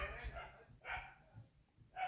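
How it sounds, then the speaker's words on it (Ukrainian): Neighbours' dogs barking in short bursts, several barks spread across the moment at moderate distance, mixed with background voices and household noise. "Сусідські починають гавкати"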